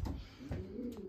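Racing pigeons coo softly inside a loft, making a low, throaty, rolling murmur that continues without a break, faint and close, with no one talking.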